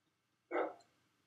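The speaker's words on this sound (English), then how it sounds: "I'm not sure if you can hear my dog in the background barking to come in" A single short dog bark from outdoors, somewhat distant and muffled, the dog wanting to be let back in; it rings out once in an otherwise quiet room.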